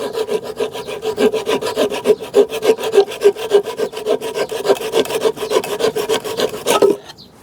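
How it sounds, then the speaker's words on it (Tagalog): A hand saw cuts through wood in quick, steady back-and-forth strokes, rasping loudly and close up before stopping abruptly. "napakalaking tulong din ng lagari na to sa akin. Kahit na malit pero napakatalim"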